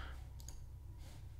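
A computer mouse clicked at a desk, two quick light clicks close together near the start and another pair about a second later, soft and close against a low steady hum.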